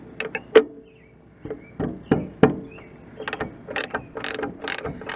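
Socket ratchet cracking loose rusted rear drum brake bolts on a 1997 Chevy Blazer, a series of sharp metallic clicks and clanks in short bursts, close up with no talking.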